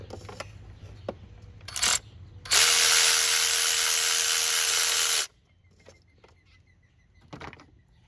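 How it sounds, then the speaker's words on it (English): A tool loosens bolts on a Ford Duratec engine: a few short ratcheting bursts, then one sustained loud whirring run of about three seconds, followed by quieter clicks and handling noises, close up and without speech. "we'll go ahead and we'll take those bolts loose"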